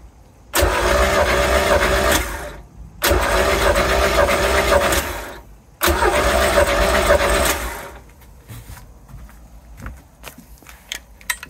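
MerCruiser 3L 120 hp boat engine cranking during a compression test, three loud bursts of steady rhythmic starter churning separated by short pauses, then quiet handling noises.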